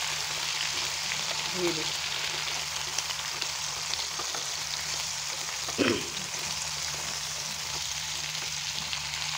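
Potatoes and brinjal fry in a pan over a medium flame, a steady soft sizzle broken by a couple of brief scraping stirs, with a few quiet spoken words.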